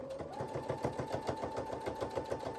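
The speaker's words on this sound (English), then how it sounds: "I'm just gonna pick a spot and start sewing, and I'm sewing at about 1/4 inch. I'm gonna back stitch." Sewing machine stitching a heart-shaped zipper pouch at a quarter-inch seam, a steady fast mechanical chatter of the needle running continuously and close up, with no talking over it.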